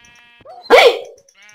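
A single loud, close sheep bleat in Minecraft, a short wavering baa sounding alone against quiet game ambience, with faint softer tones before and after.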